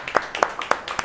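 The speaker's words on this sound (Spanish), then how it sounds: "¿cuánto le dan un aplauso al Cordero?" A church congregation applauding during a Spanish-language sermon on the Lamb of God: a brief burst of four or five sharp, fairly close claps in quick rhythm.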